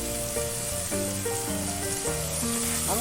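A large tomato drops into a hot pan of oil while cooking achari jackfruit, setting off a steady close sizzle and crackle that runs throughout.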